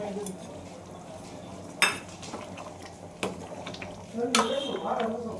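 Paneer being added to chole in a cooking pan, soft stirring and scraping with a couple of sharp clinks of a utensil against metal, close up over a low steady background.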